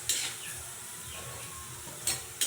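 Pancit bihon and canton noodles are stir-fried in a large wok, a close, continuous sizzle with a few sharp metallic scrapes and clanks of the utensil against the pan.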